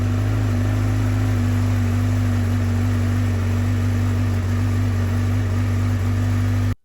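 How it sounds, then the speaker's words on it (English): A 2022 Honda CBR1000RR sport motorcycle sits idling in neutral, giving a loud, steady, close-up engine hum with an even low drone and no voices. "you need to put the bike in neutral and start the engine and let it idle"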